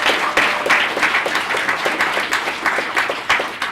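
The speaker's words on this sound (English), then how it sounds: "I'd like to currently give us a round of applause to all the sponsors and community partners" An audience applauding the sponsors and community partners of a BetaNYC community event, a steady wash of many hands clapping from across the room with no talk over it.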